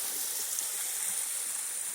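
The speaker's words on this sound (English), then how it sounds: "check out the waterfall." Water from a waterfall on a hiking trail rushes in a steady, even hiss, a continuous outdoor roar without pauses.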